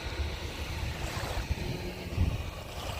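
Sea waves wash onto a public beach at Dukhan in Qatar, a low continuous surf rumble mixed with wind buffeting the microphone.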